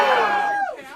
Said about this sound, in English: every time Dylan points at you guys, I want you to cheer like crazy